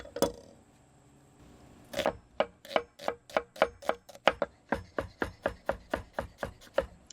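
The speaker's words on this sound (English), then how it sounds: "So I have here white onion, and we are going to chop that up nice and fine to put inside of our fish." A knife chops white onion finely on a board, one isolated cut followed by a steady run of about twenty crisp, close, evenly spaced chops with no voices.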